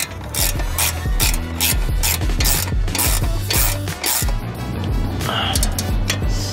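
A nut is tightened onto an Audi B9 S4/S5 strut fitted with a 034 Motorsport lowering spring, making repeated ratchet clicks and rattling metal mechanism noise in quick uneven bursts, close and fairly loud.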